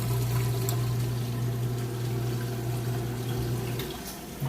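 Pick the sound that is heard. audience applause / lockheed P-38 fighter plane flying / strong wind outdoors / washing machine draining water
washing machine draining water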